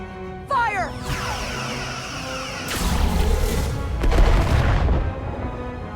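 Starship weapons firing in the Star Trek Resurgence video game, a sweeping energy discharge followed by heavy booming impacts and rumbling blasts that roll on for several seconds.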